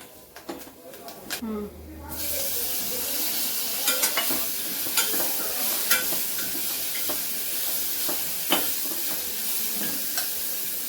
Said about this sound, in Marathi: बघा आवाज पाहिजे ना तडतडतोय ना